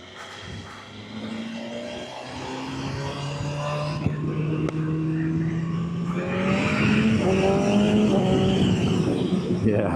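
A BMW R1300GS motorcycle engine on a test ride revs and climbs through gears, a steady rising drone with a brief dip and a swell in pitch, wind rushing over the rider and faint talk underneath.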